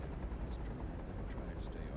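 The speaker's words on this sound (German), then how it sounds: "Da kommt gerade der Rettungshubschrauber." Rescue helicopter in the city-builder game Cities Skylines 2, a steady low rotor rumble and whine filling the background for the whole stretch, with faint talk over it.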